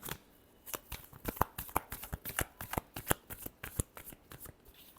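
Tarot cards are shuffled by hand in a rapid run of crisp riffling flutters and slaps, close and clear with no talking.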